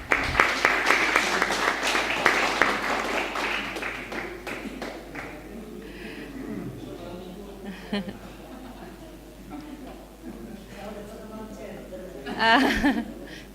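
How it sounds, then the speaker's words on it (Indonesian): Applause from attendees at a regional working meeting for women, loudest at the start and thinning out, with talk and light laughter around it. "Tepuk tangan dulu buat perempuannya."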